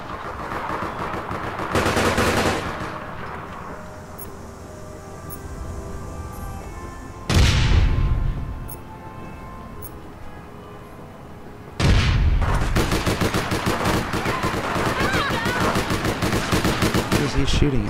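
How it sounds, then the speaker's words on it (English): Gunfire in the video game APB Reloaded: a few sharp, loud shot bursts cut in over a steady background, with a long sustained stretch of rapid firing at the end. "What is he shooting at?"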